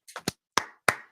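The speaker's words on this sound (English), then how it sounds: "Always a little clap." A short run of about five quick hand claps, sharp and close, in two loose groups, with silence between and no voices.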